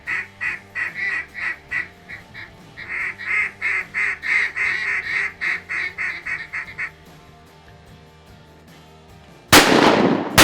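Mallard ducks quacking on a duck hunt in the Delta, a rapid loud series of quacks close by for several seconds, then quieter, ending in a sudden sharp burst of noise.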